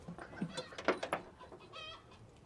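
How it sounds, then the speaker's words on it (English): A farm rooster crows in a rising, harmonic call with a few sharp clucking bursts mixed in, fairly close and moderately loud, with no one speaking. "It was that rooster."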